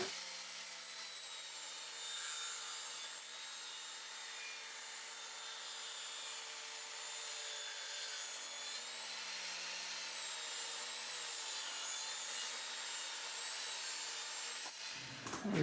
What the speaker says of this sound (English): I'm going to cut the dust collector on, and we're going to start running some 3/4 inch boards